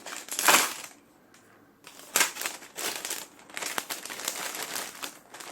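Crinkling and rustling of a plastic zipper bag as gas-gun blank cartridges are packed in with a desiccant packet, close and continuous with sharper crackling bursts, no speech.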